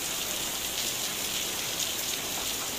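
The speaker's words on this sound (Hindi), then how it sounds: "जोरों से बारिश जो है ना वो शुरू हो चुकी है" Heavy rain falling steadily, a dense, even hiss of drops striking surfaces that fills the whole stretch without pause and with no voices.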